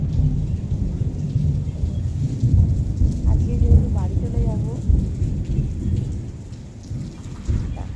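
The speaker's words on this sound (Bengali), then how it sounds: "শুনতে পাচ্ছ মেঘের গর্জন" Thunder rumbles low and long over steady rain at dawn, heard from a hotel balcony in Puri during a rainy morning, while a person talks close by throughout.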